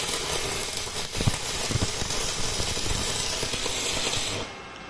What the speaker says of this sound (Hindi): रेट बढ़ा के वेल्डिंग मार रहे हैं।